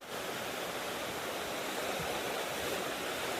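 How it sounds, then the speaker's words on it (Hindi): A waterfall roars in a continuous dense rush of falling water, steady and enveloping, with no voices. "आपण माने देखि परले वाटरफॉलटा केते बढ़िया अच्छे आ केते स्पीड रे पानी पडुछे"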